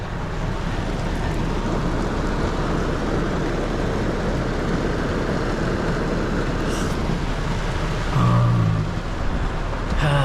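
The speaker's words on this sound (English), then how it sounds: "I got caught in the rain." Steady rain pours down over a park, a dense, even hiss that continues for the whole stretch, with a slightly louder patch near the end and no voices.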